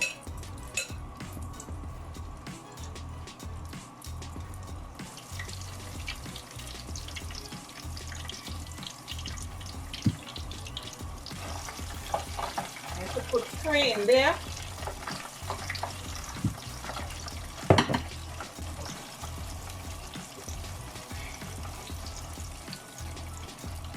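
Oil sizzles and crackles steadily in a pan as crumb-coated cheesy onion rings fry, with brief spatters and scraping, and a voice speaks quietly over it.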